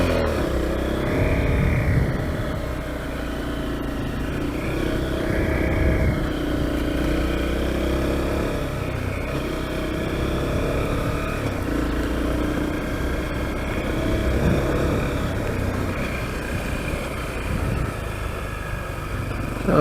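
Honda CRF250L motorcycle engine running on a dirt trail, a continuous mid-pitched rumble that rises and falls slightly with throttle over the whole stretch, close and steady.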